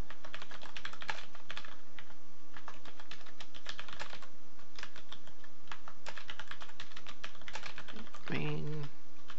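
Quick bursts of typing on a computer keyboard, close and clattery in uneven clusters, with a short voice near the end.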